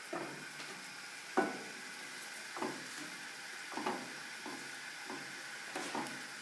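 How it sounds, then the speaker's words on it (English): Stir fry sizzling in a pan, a soft steady crackle broken every second or so by louder scraping stirs, close and alone without talk. "Stir fry is coming out very nicely, and I'm going to rise the heat, increase it a little bit."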